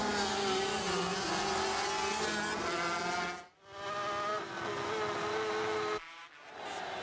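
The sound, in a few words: 500cc Grand Prix racing motorcycles at Le Mans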